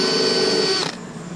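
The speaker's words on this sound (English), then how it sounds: "I'm gonna go drill a couple holes coming out the back side, just some pocket holes" A power drill boring pocket holes in wood for an RV bed step extension, a loud high whine that winds down and stops after about a second.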